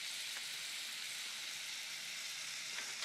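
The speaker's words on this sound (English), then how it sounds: "So we'll add our 2 sticks of butter to our pan here." Two sticks of butter melting in a hot pan for cashew brittle, a faint, even hiss of sizzling that holds steady with a few light crackles.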